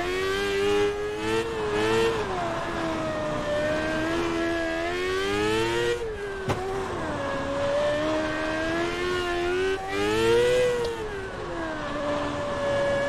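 Race car engine lapping the Millbridge track in the iRacing sim, a steady loud harmonic drone that rises and falls through gear changes and revs for the whole stretch, with no talking over it.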